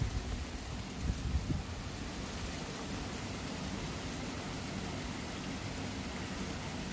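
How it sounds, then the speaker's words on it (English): Heavy rain pouring down outside on a grotty day, a dense, even hiss of drops on surfaces that holds steady throughout at a soft, distant level, with no voices. "It's very heavy rain."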